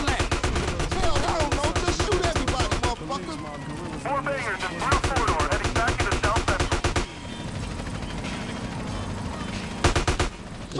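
Rapid bursts of automatic gunfire and single shots in GTA San Andreas, loud and repeated in long rattling volleys with short pauses between them.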